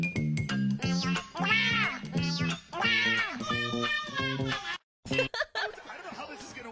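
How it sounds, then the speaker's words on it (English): A cat meows repeatedly in drawn-out, expressive cries, mixed with snickering laughter and a voice nearby. "I'm obsessed with the way this cat sounds."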